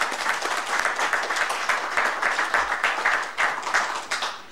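Audience at an education event clapping together, a moderately near burst of applause with uneven, pulsing rhythm that rises and falls over several seconds.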